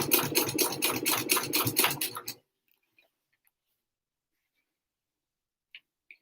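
A sewing machine stitches a fabric wristlet in a fast, steady run of needle ticks for about two seconds, then stops abruptly, leaving near silence with a few faint clicks.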